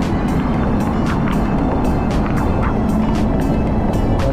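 Strong wind roars continuously through a heavy rainstorm, a dense, steady rushing wash with rain spattering throughout and no voices.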